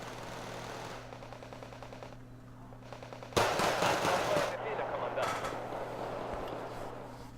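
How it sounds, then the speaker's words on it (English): An MG3 machine gun in a video game rips out a loud, sustained burst of automatic fire, then a shorter second burst, layered over game background noise and talking. "shooting from the hip with an MG3"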